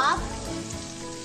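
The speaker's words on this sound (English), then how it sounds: "After your garlic is a little bit brown, you can add your onions. And let it cook for at least, you know, 2 to 3 minutes" Onions added to a pan of browning garlic fry with a steady, soft sizzle after a brief initial clatter, close and without talk.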